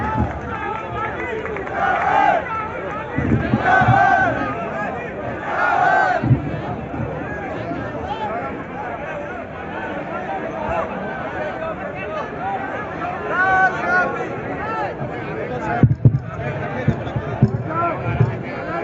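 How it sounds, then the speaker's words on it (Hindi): Crowd at an outdoor election rally in Ashoknagar, India, applauding and cheering a politician's arrival, a dense sustained roar with rising bursts of clapping and shouts, a voice coming through over the noise near the end. "आदरणीय राहुल गांधी जी, जोर से तालियां बजाकर स्वागत।"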